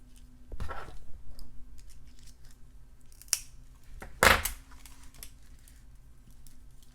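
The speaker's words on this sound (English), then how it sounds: "I'm going to snip these off and snip some of these off." A few sharp, isolated snips of small cutters trimming pieces for a beaded necklace, close and separated by quiet handling, with the loudest cut near the middle.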